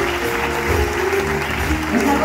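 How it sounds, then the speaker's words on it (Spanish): A concert audience at a Big Band de Alcalá show applauds a band member, a loud, continuous spread of clapping with a faint musical tone and some voices mixed in. "Un aplauso enorme para mi compañera."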